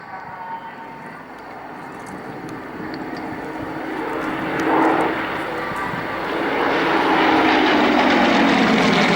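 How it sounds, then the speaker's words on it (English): Propeller display aircraft of the Aerostars team fly over the Cosford airfield during a 2013 air show. A droning engine note builds from distant to louder as a plane approaches, and the sound changes pitch as it passes overhead. "look straight across the airfield as Dave Boardman flies towards them, the solo, tipping down from the far side of the airfield"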